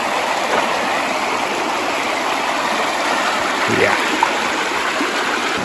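River flowing near Indian Falls on Mount Marcy, a steady close rushing and babbling of water over rocks, with a brief splash midway and a single short spoken word.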